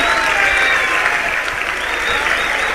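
A live audience at a Marwari comedy kavi sammelan breaks into sustained, dense applause, loud and continuous throughout.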